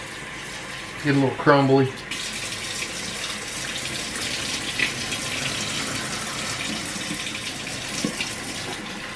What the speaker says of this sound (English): I put them in a bowl and rinse them real good